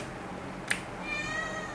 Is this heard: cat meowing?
yes